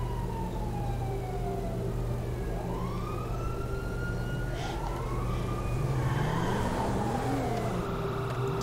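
Ambulance siren in the video game GTA 5, its wailing tones rising and falling steadily over a constant vehicle engine drone, with a second siren layer sweeping in toward the end.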